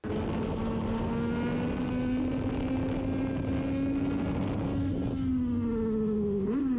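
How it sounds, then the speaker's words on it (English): A Yamaha MT-09 motorcycle under way, its engine holding a loud, continuous drone whose pitch climbs slowly, then dips and flicks up briefly near the end, with no voices over it. "here we go with a Yamaha MT-09"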